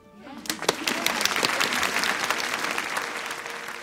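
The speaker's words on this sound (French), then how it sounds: "Voilà, ça mérite une salve d'applaudissements." A studio audience bursts into a round of applause during a French talk show discussion, dense clapping swelling in the first second and holding steady and fairly loud to the end, with no voices over it.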